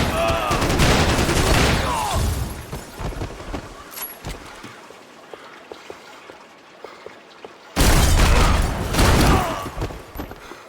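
Heavy gunfire in a Max Payne 3 shootout, loud close bursts at the start that thin into scattered distant shots and debris, then another loud volley near the end, with faint voices mixed in.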